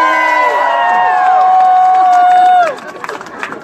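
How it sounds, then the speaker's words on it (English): A crowd at an outdoor single-payer healthcare rally in Olympia lets out loud, close cheers and whoops that hold for a few seconds, then fade into scattered shouts. "All right, we'll just cheer now."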